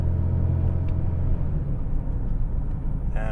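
A BMW E64 M6 convertible with a soft top, driven in SMG mode with manual gear shifts, gives off a deep, steady engine rumble from inside the cabin, loud and continuous with low road drone underneath.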